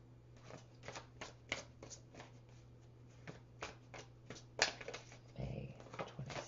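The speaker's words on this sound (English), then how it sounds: "Let's pull some Romance Angels cards." Romance Angels oracle cards are shuffled quietly in a series of soft riffles and brief papery taps over a low steady hum, with no one talking.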